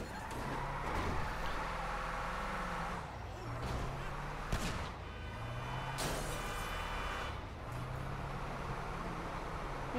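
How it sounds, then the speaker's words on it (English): A big Cerberus truck in GTA 5 Online drives with a loud, continuous engine drone that rises and falls with gear shifts, plus a few sharp hiss-like bursts, under someone talking. "This is a big truck."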